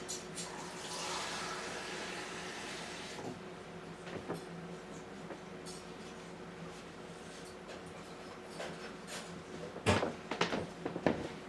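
Lukewarm water refilling pets' bowls, heard as a steady rushing tap flow for the first few seconds, followed by quieter handling noises and a cluster of clattering knocks near the end.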